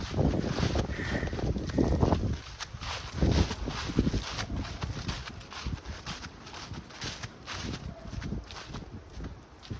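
Gusty winter wind buffeting the microphone along Highland Creek Trail in Scarborough, Toronto, with loud low rumbling bursts, some footsteps crunching underneath, rising and falling unevenly.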